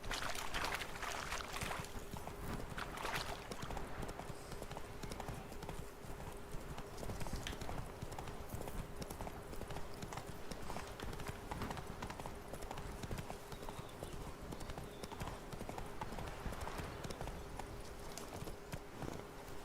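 Hooves of the horse Roach in The Witcher 3 beat out a steady, rapid galloping clip-clop that runs unbroken and fairly loud throughout, with game ambience beneath.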